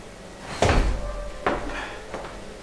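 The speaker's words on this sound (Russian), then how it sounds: "прикройте дверь" A door is pulled shut in a cafe during a live evening performance, giving a firm close thud followed by two softer knocks, fairly near in a quiet room.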